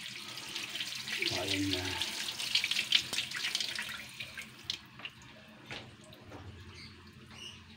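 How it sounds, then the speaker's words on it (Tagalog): Tap water runs and splashes over malunggay (moringa) leaves being washed in a kitchen sink. The splashing and trickling is close and fairly quiet, then fades into scattered drips, with a person speaking briefly. "hugasan muna natin yung malunggay natin, guys"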